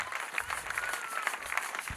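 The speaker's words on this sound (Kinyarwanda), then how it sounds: "Dukomere Imana amashyi menshi" A congregation at an ADEPR church prayer service claps steadily and densely throughout, a continuous patter of many hands at moderate loudness.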